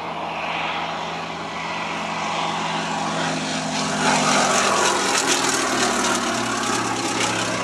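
A vintage propeller aircraft, built in Canada in 1943 and once used as a target tug, flies at an air show; its steady engine drone grows slightly louder as it passes, with no voices.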